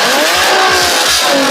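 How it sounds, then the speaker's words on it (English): A Nissan 370Z rear-wheel-drive sports car with a VQ engine roars loudly and continuously up close, its engine note rising and sweeping as it accelerates, with a hint of tire noise. "The 370Z is a powerful rear-wheel drive sports car famous for its VQ roar."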